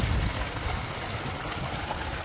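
Cold water gushes down a partly frozen icy waterfall into a pond, a steady close rushing splash that is loudest at the start and then continues evenly without any voices.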